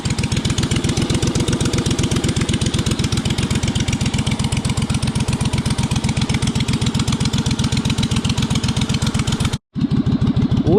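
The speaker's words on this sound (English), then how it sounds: "Listen to this idle." A race lawn mower engine idles loud and close after a cold start, a steady rapid lumpy thumping that runs unbroken except for one brief cutout near the end.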